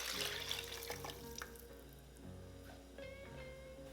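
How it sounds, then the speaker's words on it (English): Chicken stock poured into a hot pot of beef short rib stew over high heat, a faint splashing, gurgling pour over a low sizzle, with a few stirring knocks. "Over high heat, pour the chicken stock into the pot."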